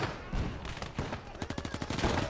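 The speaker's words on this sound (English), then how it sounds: "We are gunning them down, though" Rapid machine gun fire in the Gates of Hell: Ostfront World War II game, with sharp bursts of shots hammering out in quick, regular runs during a close firefight.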